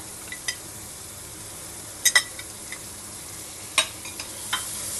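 Paneer and vegetables stir-fried with kitchen king masala in a pan for veggie paneer pulao: a steady soft sizzle with a few sharp clinks and scrapes of a spoon against the pan, close by, with no one talking.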